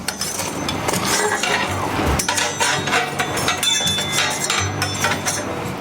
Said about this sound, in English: So you're going to start with your scraper And you're going to pull all the ashes towards the front and through the ash grate.